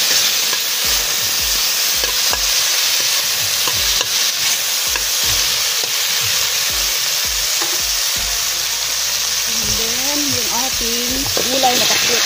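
Pakbit vegetables with tomato sizzling in a pan, stirred repeatedly with a utensil scraping in a steady rhythm, close and loud, with a brief voice near the end.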